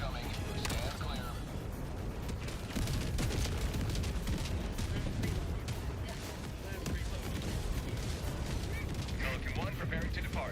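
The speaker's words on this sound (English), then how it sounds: "Requesting orbital. Orbital barrage incoming." Orbital barrage strikes in a sci-fi combat video game pound continuously as a dense, loud wall of explosions and gunfire, with voices talking over the rumbling chaos.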